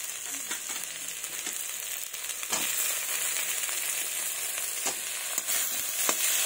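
Chopped tomato tipped into vegetables frying in a pan, a constant bright sizzle with occasional sharper crackles and spoon scrapes, close and steady, no voice.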